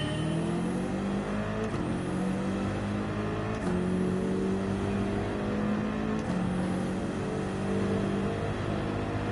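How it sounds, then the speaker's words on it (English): A Subaru BRZ engine in the racing game Gran Turismo 7 revs steadily and loudly, its harmonic whine rising through gear changes in a continuous sweep with other cars around it and no talk. "I can hear a BRZ somewhere up there"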